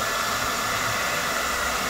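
Hair dryer blowing steadily and loudly at close range, a continuous broadband whoosh with no pauses, used at a tattoo course.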